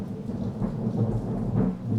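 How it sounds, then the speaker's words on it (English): Rolling thunder rumbles continuously and deeply through a rainstorm. The heavy low roar swells and recedes in waves over a steady hiss of rain, with no voices. "That thunder was fucking rolling, dude."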